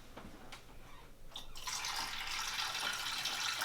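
Water pours from a pan of soaking quinoa into a sink, a few light drips and clinks first, then a steady loud rushing splash that continues to the end.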